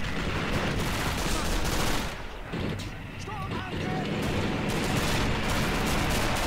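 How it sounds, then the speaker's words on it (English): Tank and battlefield gunfire in the Men of War Assault Squad 2 Stalingrad battle: a dense, continuous din of shots and rumbling fire, briefly thinning before building back up, under scattered voices. "we're taking shots from the tanks over there"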